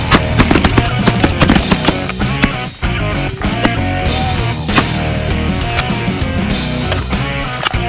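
Shotgun blasts ring out during an early-season goose hunt in a North Dakota wheat field, several sharp loud reports in quick succession over a busy, noisy background.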